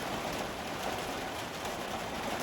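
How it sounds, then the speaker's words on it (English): Rain falls steadily in a dense, even hiss of countless drops, moderately loud and unbroken throughout, with no voices. "Man, can't believe the rain."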